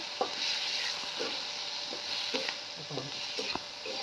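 Fenugreek leaves frying and being stirred in a pan over a wood-fired stove, a steady broadband sizzle with scattered scraping knocks from the stirring, close and fairly soft.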